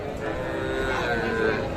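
Cattle moo at a busy village cattle market in Dinajpur where calves and heifers are being sold, one steady, loud, close call filling the short moment over crowd murmur.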